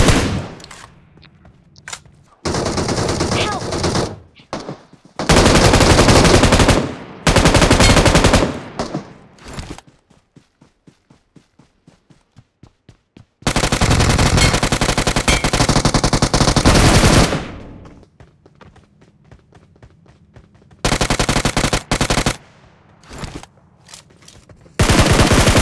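Bursts of rapid automatic gunfire in PUBG Mobile, loud and close, coming in several long volleys separated by quieter gaps and a stretch of single rhythmic shots.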